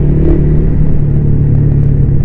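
A Raider 150 motorcycle engine revs loudly up close, a steady throaty roar with a strong low hum holding for a couple of seconds, alone without talk.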